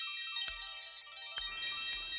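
A mobile phone rings with an incoming call, a clear melodic ringtone repeating its tones close by in an otherwise quiet room.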